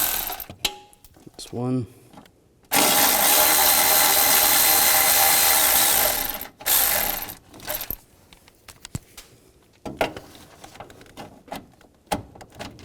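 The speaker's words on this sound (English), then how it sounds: "Using a 10mm socket, there's 3 bolts. Take those out." Ratchet with a 10mm socket working bolts off a 1999-2006 Chevrolet Silverado 1500 battery tray, rapid clicking runs and a long steady whirring stretch, close up, with a brief spoken remark.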